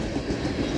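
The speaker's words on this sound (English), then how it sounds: "this whole train is being pulled along with one locomotive" A CSX manifest freight train pulled by a single locomotive rolls past at Folkston, a steady close rumble of cars and wheels with faint clickety-clack, loud and continuous with no talk.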